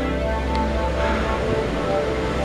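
Ocean waves on the Chilean coast at Cobquecura near a stone church: steady, broad surf wash with a low rumble, continuous and fairly loud with no distinct breaks, with no voices.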